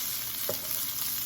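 Green beans, smoked apple sage field roast sausage and onion stirred in a frying pan make a loud, continuous sizzle, with one quick scrape of the utensil partway through.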